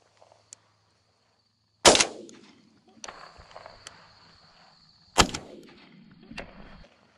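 Two loud, close shotgun blasts several seconds apart during an opening-day dove hunt beside a cattle pond, each with a sharp crack and a fading outdoor rumble, with faint clicks and rustling between the shots.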